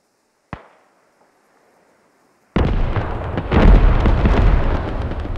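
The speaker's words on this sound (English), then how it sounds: "that's definitely American artillery on that hab" Artillery shells landing in the game Squad: a single sharp boom with a short decay, a quiet pause, then a massive close blast that rolls into a sustained, heavy rumble of further impacts.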